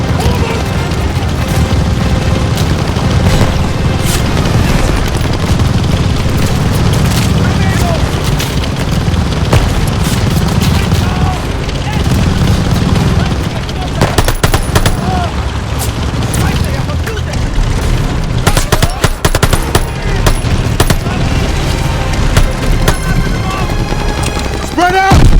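Dense gunfire and booming explosions in a Call of Duty: Vanguard battle with a half-track nearby. Bursts of machine-gun fire and heavy blasts carry on steadily and loudly throughout, while soldiers shout over the din.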